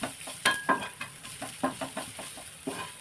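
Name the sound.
garlic, ginger and chili sautéing in oil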